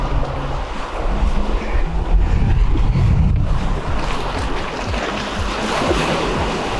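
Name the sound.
strong ocean waves at Diniwid Beach, Boracay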